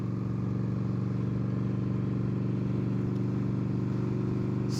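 Bobber motorcycle being ridden, its engine holding a steady, continuous low drone at constant speed, close and fairly loud, without revving or talk.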